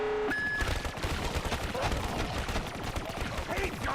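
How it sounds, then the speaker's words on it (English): Rapid submachine gun bursts from a zombies video game on the moon map, dense and continuous through the whole stretch with a brief tonal game cue at the start, loud and close with no talking. "This is a submachine gun game."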